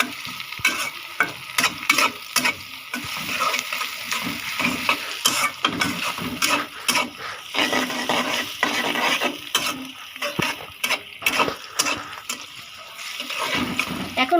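Onions frying soft in a pan ahead of a pond-fish curry, stirred continuously: steady sizzling under busy, rhythmic scraping and clinking of the spoon against the pan, close and fairly loud throughout, with no talk.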